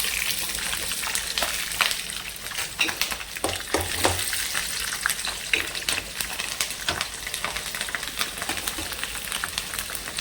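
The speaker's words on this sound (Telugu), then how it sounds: "ఉల్లిపాయ వేసిన గింజలు వేగితే కదండి కమ్మగా ఉంటుంది." Chopped onion and seeds fry in a hot pan with a busy, crackling sizzle, broken by irregular stirring scrapes and spatters that stay fairly loud for the whole stretch, with no talking.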